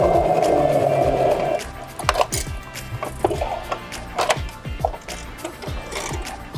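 A sewing machine stitches black thread through the fabric of an adjustable mask, starting with a steady whir and then breaking into short, uneven bursts of clicking and tapping, close by and moderately loud.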